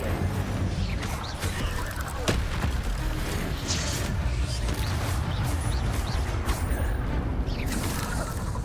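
Incendio fire spells cast in Hogwarts Legacy against a giant spider, heard as repeated whooshing, crackling bursts and impacts amid steady loud combat noise.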